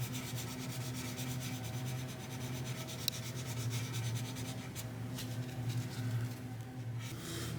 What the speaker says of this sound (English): I'm gonna stop with the 600 grit there and go up to 1500 grit or 1200 grit